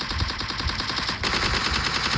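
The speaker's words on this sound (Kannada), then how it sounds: "ಸೊ ಈಗ ಈ ರೌಂಡ್ ಹೊಡಿತೀನಿ, ಪಕ್ಕ ಹೊಡಿತೀನಿ." Rapid automatic gunfire in the Free Fire mobile game, a dense, continuous stream of shots at close range with no voices.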